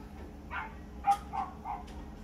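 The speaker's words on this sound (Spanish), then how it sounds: "está otra vez ahí con sus cosas el perrito ese. Vieja. Ya está con su guau, guau, guau. Está enojado." A small dog left alone barks angrily outdoors near a grill roasting corn, several quick yaps in an irregular run with one sharper, louder bark in the middle, set against a low steady background hum.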